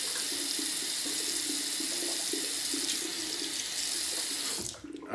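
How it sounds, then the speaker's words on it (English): Tap water running steadily into a sink while a hand is rinsed before shaving, a close, continuous hiss and splash that cuts off abruptly near the end. "Just gonna rinse my hand off here"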